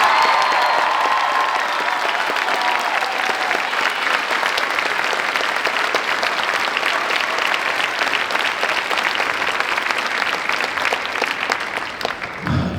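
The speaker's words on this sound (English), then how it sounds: "Let's give a big round of applause to Mr." Sustained audience applause fills an indoor marching band concert hall, dense and loud from start to finish before tapering off at the very end.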